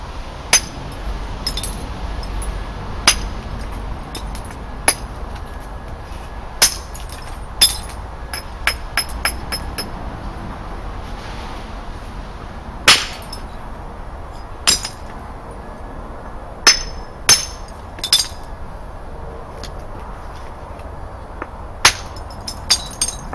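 Flint is knapped into a Neolithic-style axe head with sharp, isolated stone-on-stone strikes that knock off flakes. The clicks come at irregular intervals of a second or two against a quiet background, with no voices.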